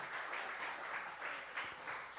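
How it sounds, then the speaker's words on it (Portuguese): A church congregation applauds steadily, a dense, even wash of many hands clapping that fills the room without pause. "Pode aplaudir ao Senhor pela vida deles aí"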